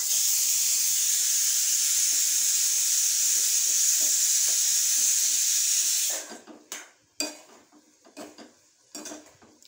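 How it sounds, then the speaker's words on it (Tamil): Beaten egg with pepper poured over capsicum in a hot pan, a steady loud sizzle for several seconds that cuts off abruptly, followed by scattered clinks and scraping of utensils against the pan. "இப்போ நம்ம கேப்சிகமில் பெப்பர் போட்டு அடித்த ஒரு முட்டையை ஊற்றிட்டோம்."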